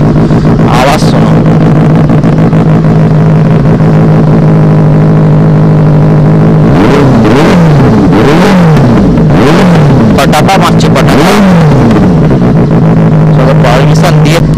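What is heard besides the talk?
Benelli 600i motorcycle revving with SC Project exhaust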